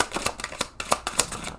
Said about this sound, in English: Let's get some more cards out here.